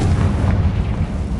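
A Confringo blasting spell exploding in Hogwarts Legacy, a loud, deep, rumbling boom that fills the whole short moment with no voices.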